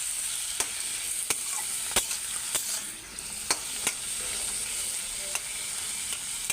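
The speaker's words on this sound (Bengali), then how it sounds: "এই যে তেল আর ঘি দিয়ে ভাজতেছি" Bottle gourd frying in oil and ghee, a steady close hiss and sizzle punctuated by sharp spoon clicks against the pan every second or so.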